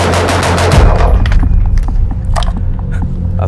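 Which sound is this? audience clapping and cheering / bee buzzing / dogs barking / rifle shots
rifle shots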